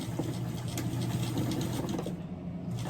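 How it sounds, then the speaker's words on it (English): A sewing machine runs steadily, stitching two pinned layers of fabric for costume ears along the pin line, a continuous close mechanical whir with no talking. "I pinned these together, and I'm just going to sew along the pin line."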